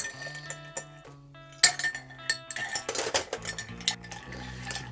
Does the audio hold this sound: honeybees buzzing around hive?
no